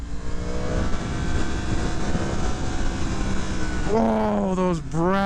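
A stock-exhaust Yamaha MT-10 SP motorcycle idles with a steady loud rumble, then blips its throttle in sharp rising and falling revs near the end, close and prominent.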